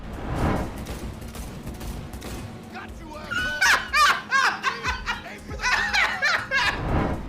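Rapid gunfire bursts in Cyberpunk 2077 as a van driver is shot, sharp repeated cracks in clusters mixed with game sounds and laughter-like voices, moderately loud and close.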